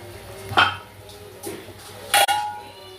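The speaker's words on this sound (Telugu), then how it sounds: "సో అలాగా ఇక నేను డిషెస్ అయితే వాష్ చేసేస్తున్నాను" Dishes, pots and pans being washed by hand in a home kitchen on a rainy day, with a few separate clinks and clatters of dishware, one sharp knock near the end, and a low steady hum underneath.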